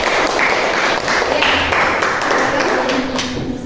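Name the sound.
class applauding a group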